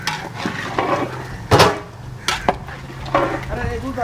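Chicken being stirred into a large catering pot of biryani, with scraping and knocking of a ladle against metal in irregular bursts, close and fairly loud, with voices faintly in the background.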